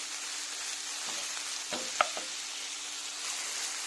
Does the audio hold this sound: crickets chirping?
no